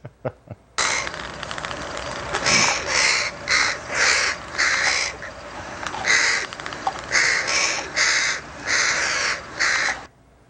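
Comedy sketch segment featuring loud crow caws, a rapid run of harsh repeated calls in clusters after a short quiet start, close and clear with no talking.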